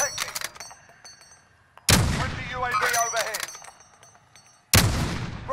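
Precision airstrike explosions and gunfire in Call of Duty Payload mode, with a few sharp shots at first, then two loud booming impacts that ring out and decay, and a radio-style voice talking between them.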